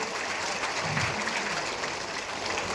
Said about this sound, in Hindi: जोरदार तालियों से आदरणीय राजनाथ सिंह के स्वागत करें।